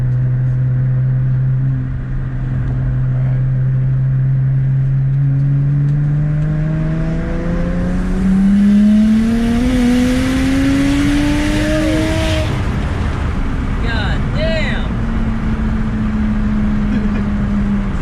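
BMW 335i with an N54 engine and On3 single-turbo setup making a full-throttle pull, engine note rising steadily through the revs with a loud, close drone, then a shift and brief chirps near the end over windy background noise.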